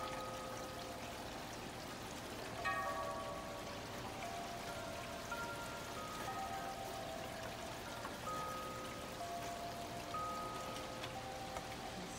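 Steady rain falls on a windy, breezy summer day, a soft, even patter that holds at a fairly low level throughout, with a few thin tonal sounds drifting in and out.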